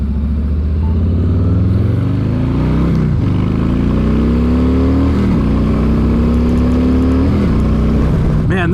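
A Harley-Davidson motorcycle engine revs loud and close, its deep rumble rising in pitch through several accelerations and gear changes, with brief dips between pulls.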